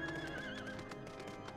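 A horse mount in Final Fantasy XIV whinnies with a rising, wavering neigh while being ridden up stone stairways, with light hoof clip-clops continuing close and clear under it.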